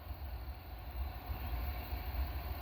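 A northbound freight train coming down a hill and around a corner, a steady low rumble that stays fairly distant and even throughout.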